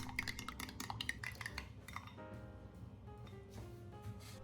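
A spoon clinks rapidly against a bowl while mixing an egg mixture with sour cream, a quick run of bright taps that gives way to softer, quieter stirring.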